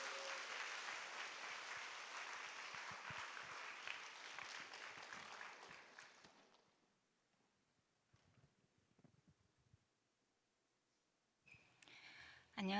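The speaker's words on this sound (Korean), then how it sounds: "좀 더 큰 박수로 격려해 주시기 바랍니다." A church congregation claps together in sustained, even applause that fills the room for about six seconds, then fades to near silence before a brief noise at the end.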